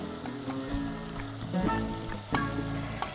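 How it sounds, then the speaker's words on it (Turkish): Tomato paste and pomegranate molasses fry in a pan for Diyarbakır-style nardan aşı, a close crackling sizzle with soft spoon scrapes and small bursts of spatter throughout. "Nar ekşisiyle biraz daha kavuruyorum."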